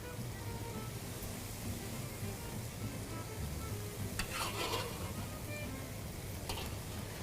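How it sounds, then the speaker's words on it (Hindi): A paratha fries in a pan with a faint, continuous sizzle and crackle, a few sharper spits near the end, no voices over it. "देखें जी, क्या बेहतरीन पराठा हमारा फ्राई हो रहा है।"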